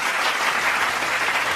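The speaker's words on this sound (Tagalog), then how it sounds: "Meron kang isang palakpak sa taong bayan." Steady applause from a gathered crowd, a dense continuous patter of many hands clapping at close range, unbroken throughout.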